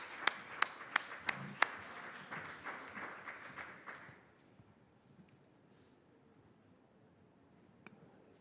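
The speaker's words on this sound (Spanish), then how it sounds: "un fuerte aplauso para ellos" An audience at a national sports psychology congress in Madrid gives a round of applause: a few sharp separate claps first, then dense clapping that fades out after about four seconds, leaving near silence with one stray clap.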